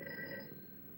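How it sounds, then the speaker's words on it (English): A telephone rings unanswered in a radio drama scene, its faint, thin electric ringing tone fading slightly over about a second with no voices. "Mary, see if you can get Jan on the phone"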